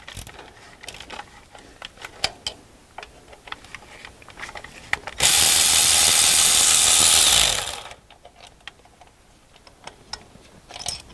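A ratchet works loose the fuel injector bolts, torqued to 10 foot-pounds, on a CAT C7 diesel engine. Scattered sharp clicks lead into a loud, steady grinding burst of about two and a half seconds, followed by more sparse clicking.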